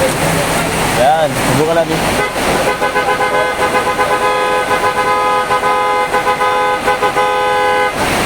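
Loud, steady PIAA horns on a Hyundai Starex blare for several seconds with strong sustained tones, following a brief spoken remark at the start.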